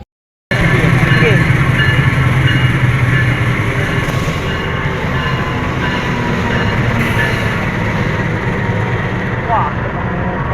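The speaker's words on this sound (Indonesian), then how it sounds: "Wah, kereta Jayabaya ini." The Jayabaya passenger train in Indonesia rumbles past close by, a loud continuous roar of wheels on rails with faint clatter, holding steady throughout.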